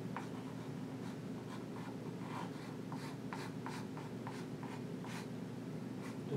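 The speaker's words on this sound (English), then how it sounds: "write that relationship" Chalk or pen writing out a linear algebra relationship on a board, a run of short scratchy strokes in quick irregular rhythm, faint and close over a steady background hum.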